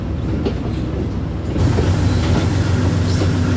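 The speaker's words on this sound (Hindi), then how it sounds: "बिल्कुल आस्ता आस्ता रायवन जंक्शन छोड़ रही है" Karachi Express pulling slowly out of a junction behind a Blue Tiger locomotive, with a loud continuous low rumble of wheels and engine that grows heavier partway through, no voices.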